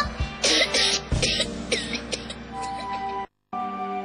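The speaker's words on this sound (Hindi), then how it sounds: "अरे खांसी बुखार फिर से?" Several harsh coughs burst out close by in quick succession, followed by a brief moment of silence.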